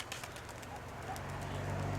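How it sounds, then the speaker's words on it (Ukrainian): Pigeons cooing in low, soft, repeated murmurs, steady and fairly close, with a faint hiss of background noise. "старі голуби, злетілося."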